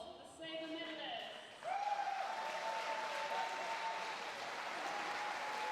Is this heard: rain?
no